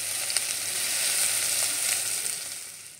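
Mustard seeds crackle in hot oil for a tempering, giving a continuous bright sizzle with scattered small pops. It stays fairly close and steady, then eases off slightly at the end, with no voices.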